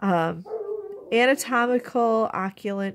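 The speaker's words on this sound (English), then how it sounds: "I'm sorry if you can hear my dog, he's outside being a little rat." A dog barks and yelps outdoors, somewhat distant, with short bursts of calls heard beneath a person talking steadily nearby.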